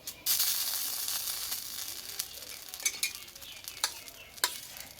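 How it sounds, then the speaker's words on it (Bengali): Sauce-coated roti piece frying in a pan, a sudden burst of sizzle as it hits the oil that settles into steady crackling with scattered sharp pops and spatters, no talking. "তোমাদের আমি আবারও এক পিস ভেজে দেখাচ্ছি"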